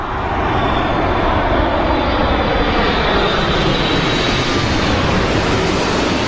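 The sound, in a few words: Aeromexico Boeing 787 Dreamliner jet at Heathrow Airport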